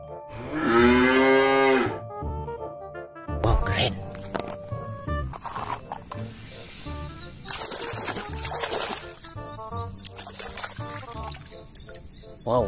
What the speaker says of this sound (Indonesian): Wadidaw, yang ini sapi